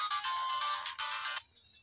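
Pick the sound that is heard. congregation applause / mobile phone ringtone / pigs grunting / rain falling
mobile phone ringtone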